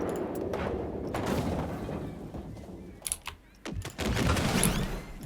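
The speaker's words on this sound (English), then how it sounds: "Ignore the explosions." Explosions from the Planet Coaster 2 video game go off as a chaotic burst of booms and crackling blasts, dense and loud, with a brief lull before another rumbling flurry.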